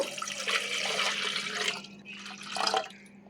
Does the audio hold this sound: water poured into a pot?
yes